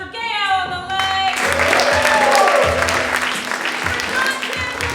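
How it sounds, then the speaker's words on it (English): A festival audience applauds, steady dense clapping rising to a broad wash of hands that then tapers slightly, with a voice and musical tones briefly heard at the start. "Another round of applause for Gael on the leg."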